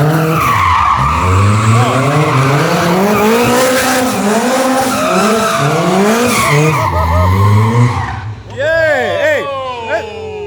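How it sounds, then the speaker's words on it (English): A supercharged Lotus 2-Eleven with a Honda K-series engine spins donuts, its engine wailing and rising and falling with loud, sustained tire squeal close by, while people talk over it, ending in a sharp rev as it pulls away. "Man, K-Series sounds so different."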